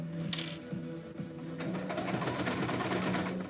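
A sewing machine top stitches and back stitches through four layers of vinyl on a bag, its motor running in a steady rhythmic whir with brief pauses and restarts, close and alone.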